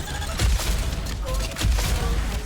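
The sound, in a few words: grenade explosions and gunfire in video game DEADLINK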